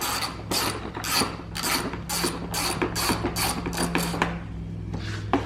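A ratchet wrench clicks in a steady series of bursts, roughly ten strokes, while a 10mm socket loosens the old silencer bolts on a 2017 Kawasaki KX100 being swapped for an FMF Shorty; close and clear, no talking.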